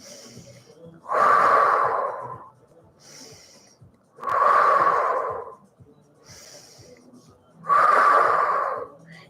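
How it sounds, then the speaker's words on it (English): Three slow, deliberate breaths drawn in through the nose during a Pilates mat class, each a loud, close, airy rush lasting about a second, separated by quiet pauses. "Inhale through the nose."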